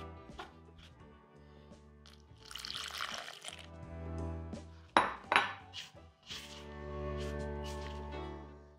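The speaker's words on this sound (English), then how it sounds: "Then with a spatula, I'm going to bring this together to start forming a dough." A spatula scrapes and knocks against a bowl while flour and water are worked into samosa wrap dough, with soft wet mixing sounds and a few sharp clinks between quieter stretches.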